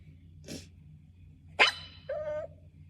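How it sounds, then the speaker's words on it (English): A dog gives a short sneeze-like huff, then a sharp bark and a drawn-out whiny yelp, close by in a quiet room. "Why do all dogs bark the same?"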